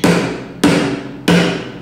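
A small hammer is struck hard three times at an even, unhurried pace, each blow a sharp, close, ringing knock that fades before the next.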